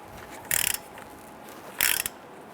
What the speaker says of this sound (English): Using our 18mm socket with an extension, let's go ahead and loosen and remove our caliper bracket bolts